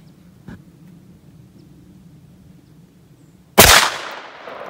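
A shotgun fires a single .410 Foster slug made from a .41 Magnum bullet, one loud sharp blast near the end that decays into a lingering outdoor echo, preceded by a faint click amid quiet background.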